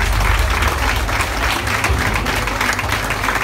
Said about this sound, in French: On les applaudit, José et Angela.